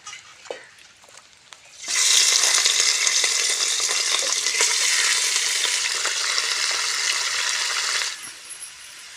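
Country chicken drops into hot oil with bay leaf, cinnamon and clove, setting off a sudden loud, steady sizzle that runs for several seconds before easing off.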